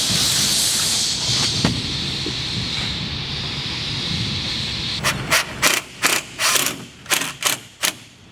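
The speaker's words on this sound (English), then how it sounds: "We're now bolting the front To the side." Bolts are driven to join an appliance cabinet front to its side, a rapid series of sharp ratcheting clicks and bursts near the end, following a stretch of steady mechanical hiss.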